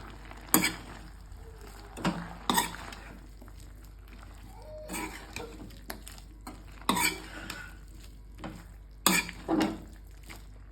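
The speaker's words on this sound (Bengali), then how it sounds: "এটার সাথে মিশিয়ে নেবো ভালো করে।" A spoon stirs and scrapes a vegetarian curry around a pan in a series of spaced strokes, close and moderately loud over a steady low hum, with no voices.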